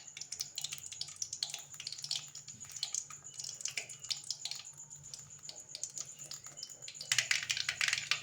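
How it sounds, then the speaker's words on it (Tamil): Mustard seeds crackling and popping in hot oil in a kadai, a dense run of sharp spluttering pops throughout, growing busier near the end, with no talk. "கடுகு நல்லா பொரிஞ்சிருச்சு"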